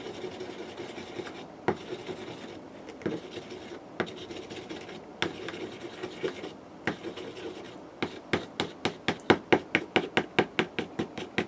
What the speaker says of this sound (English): I just kind of squash in there and stir that up good.